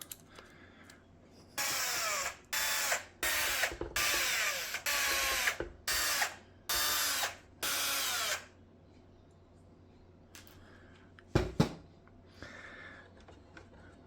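A power drill removes eight small Phillips screws from around the casing of an Ecovacs Deebot 950 robot vacuum, sounding as a series of short, loud whining bursts with brief pauses, followed by a few clicks and rattles.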